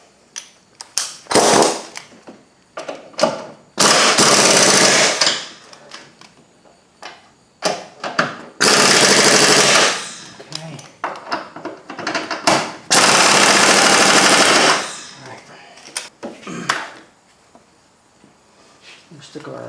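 On a 2000 Ford Focus, a power tool tightens an engine mount bolt in several loud, rattling bursts, some about a second long and others short, with a person talking between them.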